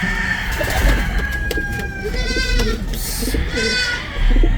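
Racing pigeons in a nesting loft give low, rolling coos, close and clear over a steady background hum, with a few soft calls overlapping.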